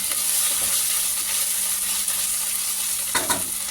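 Ginger-garlic paste fries for chicken biryani, giving a loud, steady hissing sizzle that fills the whole stretch, with a couple of stirring scrapes toward the end.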